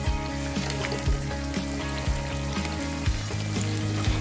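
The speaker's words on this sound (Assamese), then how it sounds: "মই এবাৰ মাংসখিনি ডিপ ফ্ৰাই কৰি ল'ম।" Chicken pieces deep frying in hot oil give a steady, busy sizzle with constant bubbling, and a spoon or utensil knocks against the pan now and then.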